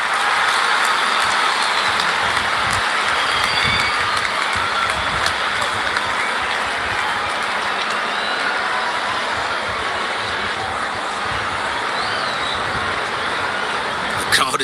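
Dense, continuous crowd cheering and applause from a stadium in the cricket video game Real Cricket IPL 2026, a steady roar with commentary voices faintly underneath.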